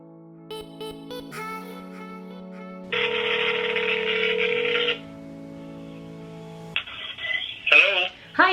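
A real-estate agent's outgoing phone call rings out on the line. Tonal dial and ringback sounds come through in several bursts, with tone changes between them and brief voice-like sounds near the end.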